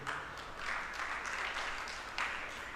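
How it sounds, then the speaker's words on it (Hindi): An audience at a religious discourse claps, a steady wash of applause that swells briefly, heard fairly softly from within the hall. "ताली मत बजाओ"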